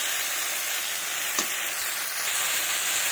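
A paste of ground chilli, cumin and ginger sizzles in a pan of hot oil with a steady close hiss and crackle. One brief sharper spit rises midway.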